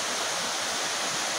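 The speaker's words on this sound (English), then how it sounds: "The waterfall is underneath the house and goes into the bear run, which is obviously the water flowing beneath it." Waterfall pouring beneath a house into the Bear Run stream, a steady, full broadband rush of falling water, close and constant with no voices.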